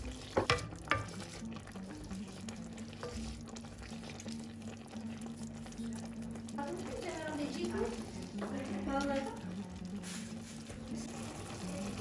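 Uzbek plov of rice and water bubbles and sizzles softly in a pot, a faint steady simmer with occasional stirring, while someone talks over it.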